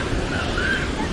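The broad, even roar of Huangguoshu waterfall in Anshun, Guizhou, fills a brief moment as constant rushing noise with no pauses.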